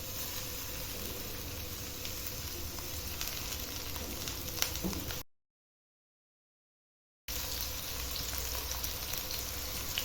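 Chopped onions fry in butter with a pinch of salt, a faint, steady sizzle that runs unbroken, stops for a short silent gap and then starts again.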